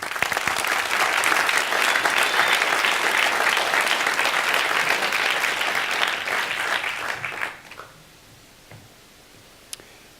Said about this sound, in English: Please put your hands together for Tim Mac Macartney